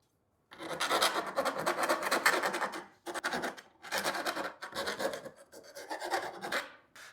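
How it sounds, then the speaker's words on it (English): A hand file rasps burrs off the sharp edges of a freshly cut hole in the deck of a Ryobi 48V RM480 mower during a lithium conversion, in three bursts of rapid back-and-forth strokes, close and loud. "I'm just going to clean up these edges with a file"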